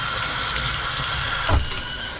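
Water rushing from an RV shower head on city water pressure, a steady loud broadband hiss with a brief low thump partway through, no voices.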